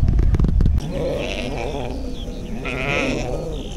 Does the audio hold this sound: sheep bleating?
yes